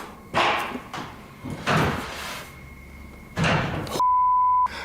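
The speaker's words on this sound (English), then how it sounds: "I just had a door closed on me." A door at the Stanley Hotel closes on its own, heard as a series of muffled thumps and a slam against quiet room noise, ending with a steady electronic beep.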